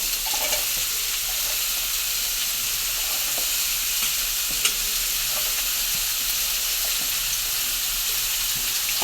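Beetroot hisses and sizzles among browned onions in a hot pan, a steady dense frying noise that stays even throughout, with faint stirring scrapes and a single soft knock near the middle.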